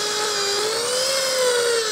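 A power drill runs steadily with a high, whining motor tone whose pitch rises slightly and falls again, close and loud with nothing else over it.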